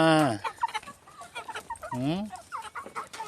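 A flock of chickens clucks nearby in an outdoor yard, with one loud squawk at the start and another mid-clip, amid continuous overlapping clucks and calls.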